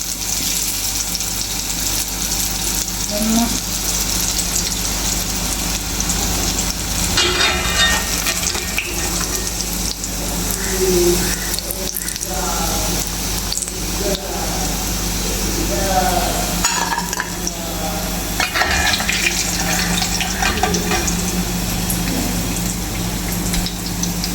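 Soybean snack deep-frying in hot oil with curry leaves dropped in, a steady bubbling sizzle running throughout with brief crackles, while a person talks over it.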